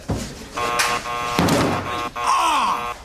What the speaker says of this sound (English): It's just the entrance buzzer.